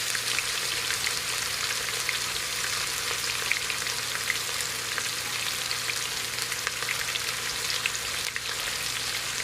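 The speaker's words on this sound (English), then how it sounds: "And we're going to stick them in here and saute them now." Braciole meat rolls sauté in a very hot pan, giving a steady, loud, close sizzle and crackle of frying that lasts throughout without any talk.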